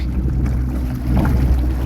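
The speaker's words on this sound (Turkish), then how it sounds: "Evet teknemiz hep 5. viteste." A fibreglass boat driven by a Haibo electric outboard motor runs fast on open water, a steady loud rush of hull, spray and wind noise with no break.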